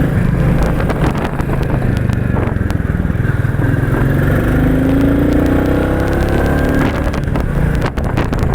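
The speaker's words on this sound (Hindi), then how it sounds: "तो चलिए अब ज़रा थ्रॉटल कर देखते हैं ऐसे कितना भागता है ये।" A Royal Enfield Bullet 350 in military black is throttled hard near a service station, its engine a loud, continuous thumping roar that rises and falls in pitch as the revs climb, with no talk over it.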